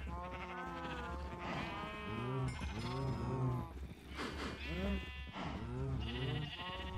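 Repeated sheep bleats from Minecraft sheep, several overlapping calls in close succession, fairly loud over a low steady game background hum.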